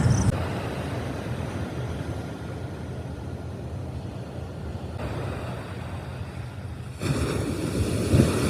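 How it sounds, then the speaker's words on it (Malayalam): Rough surf at a beach rolls in as a continuous, dense roar mixed with wind buffeting the microphone. It swells louder in the final seconds, with no voices. "ആകെ തെര ഒരുമാതിരി ആയിട്ട് നിൽക്കണ"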